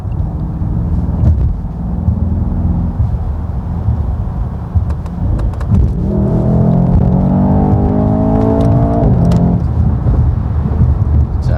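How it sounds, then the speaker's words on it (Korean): Deep V8 engine rumble and exhaust of a Mercedes-AMG S63 with a 4.0 engine builds into a rising, harmonic-rich roar as the car accelerates, then cuts back abruptly as the accelerator is released; loud and close throughout. "가속을 마치고 마지막 순간에 가속 페달에서 발을 뗄 때 마치 털어내는 듯한 그런 배기 사운드"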